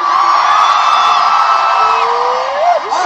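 A large crowd at an outdoor political rally screams and cheers in a loud, sustained roar of high-pitched shouts and whistles, continuous throughout with no pauses.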